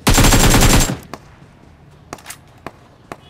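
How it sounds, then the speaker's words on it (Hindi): Gunfire in the video game BGMI: a loud, rapid automatic burst lasting about a second, followed by a few faint, scattered single shots or clicks at a distance, with no talking. "अभी जोन के अंदर से भी फायरिंग आ रही थी"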